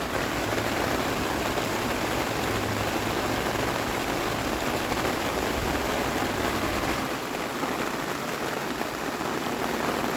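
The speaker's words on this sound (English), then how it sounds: "Wow, listen to that rain. It's really coming down out there." Heavy rain pours down steadily, a dense, continuous hiss of drops with no voices, loud and unbroken throughout.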